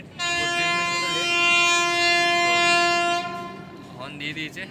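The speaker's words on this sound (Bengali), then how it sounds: "হর্ন দিয়ে দিয়েছে, ছেড়ে দেবে এক্ষুনি" A long steady horn from the Dhauli SF Express blares for about three seconds before departure, loud and close, followed by quieter station noise.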